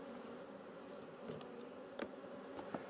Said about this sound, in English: taking the bees off, it's using the water to stop the bees from flying